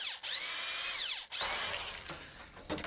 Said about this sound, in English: Have you ever used a drill like that before?